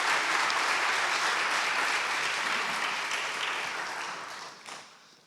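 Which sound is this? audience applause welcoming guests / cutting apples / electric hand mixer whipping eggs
audience applause welcoming guests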